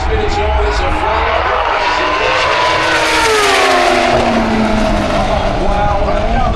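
Drag racing motorcycles roar down the strip at Santa Pod in the Super Street Fight final round, a loud sustained high-revving engine scream that rises and sweeps through the whole run while a commentator talks over it.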